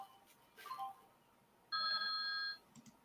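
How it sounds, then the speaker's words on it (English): Alert tone from trading chart software rings once as a short, steady electronic chime lasting under a second, fairly clear over quiet background after a brief faint sound. "Your chart's ringing."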